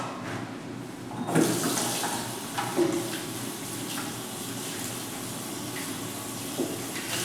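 Hands are rinsed under a running tap, with a steady stream of water splashing into a sink and small bursts of splatter as the hands move through it. No one talks.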